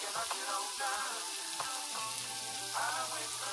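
Onions sautéing in a pan for meatloaf, a steady broadband sizzle with faint crackles and occasional scrapes of stirring, close and fairly quiet.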